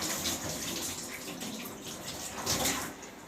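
Hands are washed under a running kitchen tap, producing a steady, close rush of flowing water that splashes continuously for a few seconds, with no speech.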